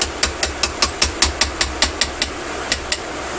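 A hammer taps a woodworking hand plane in a steady, even rhythm of about fifteen sharp, close strikes over a constant low background hum, part of building a bread box.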